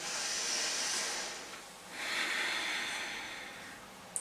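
Slow, loud breaths in yoga practice, air rushing out through the nose with the mouth closed, two long hissing exhales in a row, close and alone.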